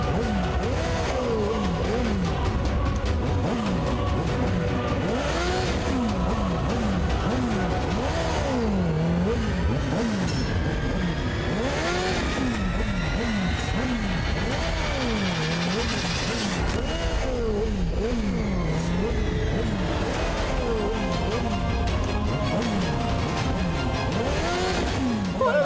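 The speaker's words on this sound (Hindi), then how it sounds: "ये अरे ये भूतिया बाइक फिर आ गई" A motorcycle, the 'ghost bike' in a comedy drama scene, revs in repeated rising and falling surges, loud and close, mixed with voices and background scoring for the whole stretch.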